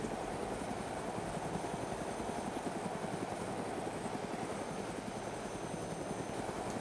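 Helicopter in the video game Arma 2 DayZ Mod, a steady, loud rotor drone with rapid blade chop and engine whine that holds constant throughout, with no talking.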